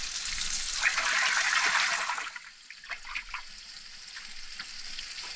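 Fish pan frying in oil and lard sizzles loudly and hissingly at first, then drops to a softer, crackling spatter as the frying settles.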